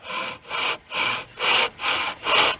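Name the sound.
back saw cutting wood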